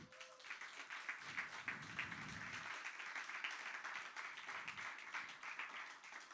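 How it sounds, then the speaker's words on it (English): An audience at a live English-language standup comedy show gives a round of applause. Many hands clap in an even, sustained patter at moderate volume, with faint murmuring underneath. "Can I get a round of applause?"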